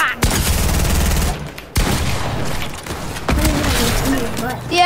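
Rapid gunfire from dual pistols in the video game Fortnite, loud bursts of shots crackling almost continuously in several volleys, with a voice heard among them.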